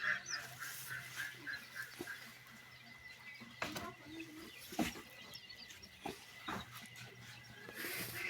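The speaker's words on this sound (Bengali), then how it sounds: "সবগুলো কোয়েল পাখি খুব পারাপারি করে খেতেছে।" Week-old quail chicks peck at feed, chirping in quick high peeps with scattered soft taps and clicks at close range, all fairly faint.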